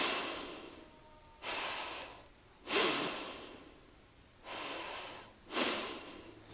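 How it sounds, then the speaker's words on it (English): Deep diaphragmatic breathing done with the pelvic floor engaged: five slow, full breaths, each a broad airy rush with pauses between, close and clear with no talk. "You do your deep diaphragmatic breathing."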